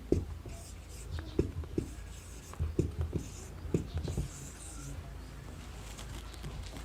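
Strokes of writing letters on a board during a grammar class, with a series of short scratchy taps and drags in uneven bursts over a low room hum and faint background noise.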